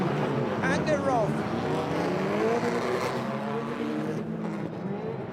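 Race cars, a Mitsubishi among them, roar away from the start of a race in a dense, sustained engine wash. A commentator talks over the noise throughout.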